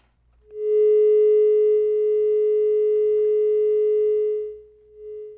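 Steady telephone dial tone on a radio call-in line after a caller's connection drops, a single continuous tone holding for about four seconds before fading, with a brief faint return at the end.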